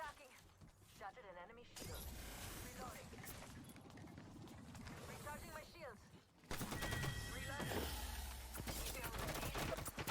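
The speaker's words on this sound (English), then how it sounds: "I hear the Maggie shooting at somebody" Rapid bursts of automatic fire from a Maggie weapon in the video game Apex Legends, mixed with game effects and a voice talking over it throughout, with a louder, denser stretch of shooting toward the end.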